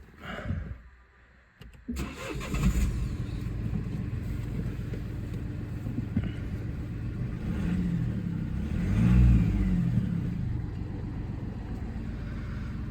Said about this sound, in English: I'm going to run the car up.